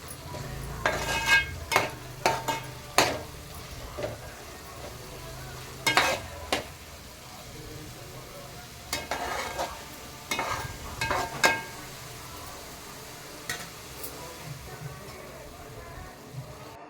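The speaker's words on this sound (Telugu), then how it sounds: "ఇప్పుడు ఫ్రై చేసుకున్న పన్నీర్ని దీంట్లో కలుపుకుందాం." Fried paneer is stirred into a biryani masala, giving a soft background sizzle under repeated sharp spoon scrapes and clatters in bursts, with brief quiet gaps between them.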